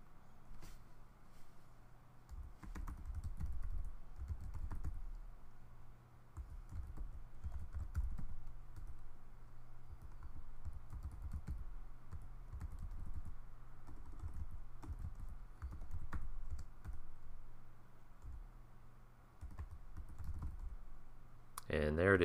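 Continuous keystrokes on a computer keyboard during command-line work on a Linux system, a steady run of quiet, uneven clicks with a few brief pauses, fairly close and alone.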